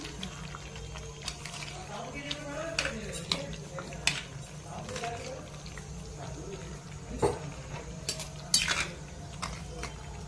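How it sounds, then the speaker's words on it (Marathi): A spoon scrapes and clinks against a pan while paneer butter masala is stirred, with irregular metallic taps and soft scraping over a low steady background hum, close and moderately loud. "त्याला फिरवून घ्यायचं."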